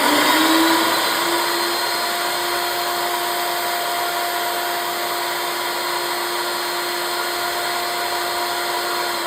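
A router table cutter spins at a steady, loud whine as a workpiece clamped on one side is pivoted into it to cut a tenon shoulder. The motor pitch rises at the start, then holds an even, continuous drone with no talk.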